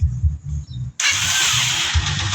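A motorcycle engine fires up just after its push rod has been replaced. Low rhythmic cranking pulses give way to a sudden loud, steady running roar that holds close and even to the end.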